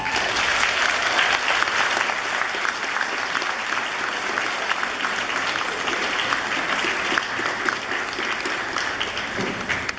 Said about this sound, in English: join me in a round of applause for those dear to you